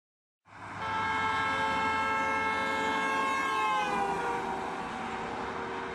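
A car sounds its horn in one long sustained blast as it drives past a listener standing outside, the tone dropping sharply in pitch partway through as it goes by, loud and close with no voices.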